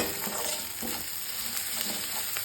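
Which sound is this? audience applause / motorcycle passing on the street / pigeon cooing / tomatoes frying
tomatoes frying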